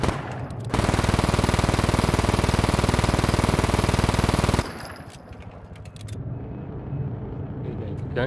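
Sustained automatic gunfire from the video game Just Cause 3, a loud continuous burst lasting several seconds that then cuts off, leaving quieter game engine and ambient noise with scattered smaller sounds.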